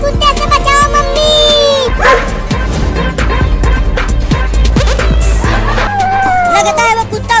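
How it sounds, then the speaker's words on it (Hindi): A dog barks and yips amid loud music, crowd babble and excited voices in a comic Hindi scene, the barking mixed under the talk and soundtrack. "चिंटू बचाओ, मुझे इस कुत्ते से बचाओ मम्मी।"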